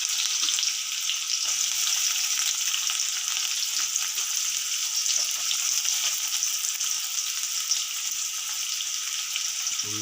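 Sliced onions sizzle in hot oil with mustard seeds and dried red chillies in a home kitchen. The sizzling is loud, close and steady all the way through, with light stirring noises now and then and no talking.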